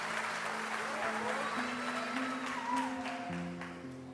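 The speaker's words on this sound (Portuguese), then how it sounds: "Você pode aplaudir a Ele nessa noite?" Church congregation applauding during a New Year's Eve service, a continuous wash of clapping with steady sustained organ or keyboard tones underneath that shift pitch partway through.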